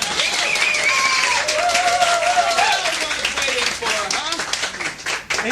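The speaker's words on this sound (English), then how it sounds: "a warm welcome and a big round of applause for..." A live cabaret audience applauds and cheers to welcome Action Man on stage, loud continuous clapping with crowd voices and whoops throughout the whole stretch.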